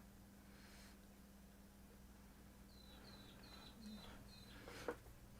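Peewees (magpie-larks) giving a run of about five short, high whistled calls in quick succession, moderately distant over a steady low electrical hum in a room.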